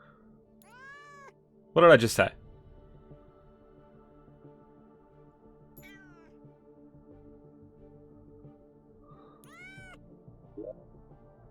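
A cat meows several times, with one loud nearby burst and a few fainter meows spread around it, while a person talks briefly.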